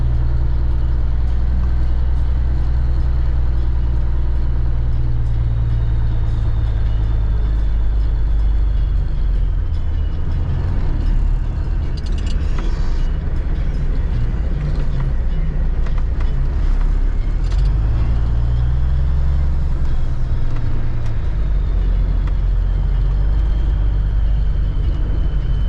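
A cabover truck on its way to work for a circus drives with a loud, steady low engine drone and rumble lasting the whole stretch, with the pitch dipping and rising as it changes speed; no one speaks.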